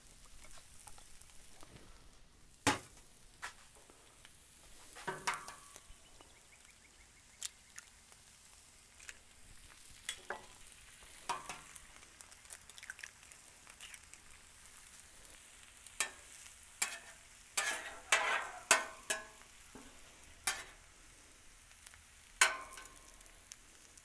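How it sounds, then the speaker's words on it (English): Egg and potatoes frying in oil on a Blackstone griddle give a soft, quiet sizzle broken by scattered sharp crackles and spatula clicks, with no talking. "We're going to cook an egg right there."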